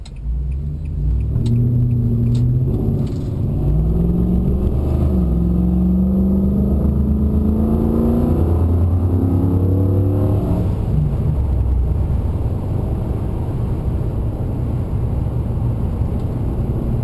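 A Nissan Titan pickup truck with a swapped engine drives along a road on a test run, making a loud, close cabin rumble with engine tones rising through the gears and steady road noise.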